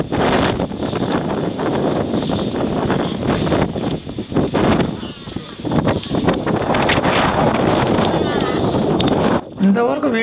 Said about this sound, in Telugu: గాలి చూడండి అసలు ఏ రేంజ్లో వస్తూ ఉంది ఇక్కడ